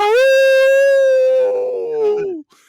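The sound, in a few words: human imitating a wolf howl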